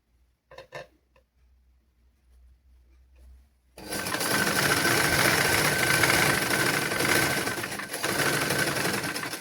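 A tailoring sewing machine starts after a few faint taps and some quiet, then stitches fabric in a loud, steady mechanical whir that runs continuously to the end.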